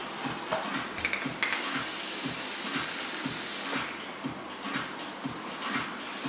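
Steady broadband hiss of vapor drawn through a high-VG e-cigarette running at 60 watts with the airflow fully open, close and continuous for several seconds with small clicks and crackles and no talk.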